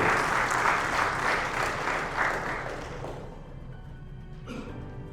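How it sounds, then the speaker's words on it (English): A banquet-hall audience at a real estate anniversary celebration applauds a gentleman invited to the podium, a loud dense burst of clapping that fades out after about three seconds, followed by faint room sound. "Please give this gentleman a round of applause as well."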